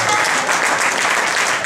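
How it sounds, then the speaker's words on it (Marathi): A crowd at a lavani performance gives loud, dense applause, a continuous roar of clapping that fills the entire short clip. "एकदा जोरदार टाळ्या होऊन जाऊन द्या"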